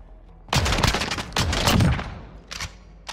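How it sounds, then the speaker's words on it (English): Heavy shotgun blasts from a Call of Duty Modern Warfare match, loud and close: a few dense bursts of gunfire with echoing tails, then a shorter pair of shots. "You just kill me with a shotgun?"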